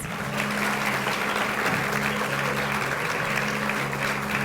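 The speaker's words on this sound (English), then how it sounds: "Representing Lyndon B. Johnson High School, let's give them a round of applause." An audience gives a high school cheer team from Lyndon B. Johnson High School a steady round of applause, dense and close, with a low musical hum running beneath the clapping throughout.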